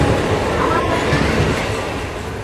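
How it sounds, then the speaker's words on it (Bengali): A train pulls out of a station bound for Tarakeswar, its wheels rumbling and clattering loudly and close by, a dense steady roar that eases slightly toward the end. "দেখুন পেছন দিক দিয়ে ট্রেন চলে যাচ্ছে তারকেশ্বরের উদ্দেশ্যে"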